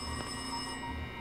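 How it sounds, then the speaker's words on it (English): A telephone rings inside an old inn late at night, a steady electronic ringing tone heard close and alone with no voices over it. "Is that my phone, or is this the inn?"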